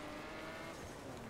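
Racing car in The Crew speeding up through a road race, a steady loud engine drone with rising tone and a hint of tyre noise, continuous with no talking.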